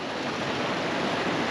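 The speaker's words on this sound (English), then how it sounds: "there's like a little waterfall" A small beach waterfall pours in a steady, close, broadband rush of falling water, unbroken and without voices.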